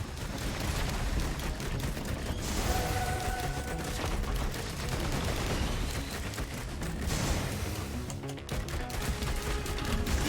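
Gun turrets fire in the video game Risk of Rain 2, dense continuous rapid gunfire with booming impacts, loud and unbroken throughout without talk.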